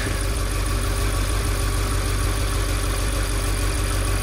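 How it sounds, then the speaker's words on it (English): An Audi RS7 engine idles steadily nearby after starting, with new fuel pumps fitted, a constant low rumble with a faint even vibration and no change in pitch. "then let's start the engine and let's warm up."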